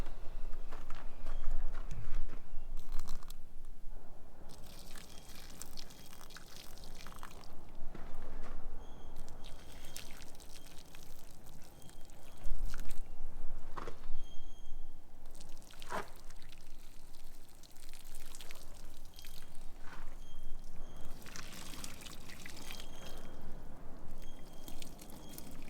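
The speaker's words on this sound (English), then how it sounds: "So let's put some hot water on these terminals." Hot water poured over corroded car battery terminals on a work ute, a steady splashing pour with drips running on for a long stretch at moderate level over outdoor background noise.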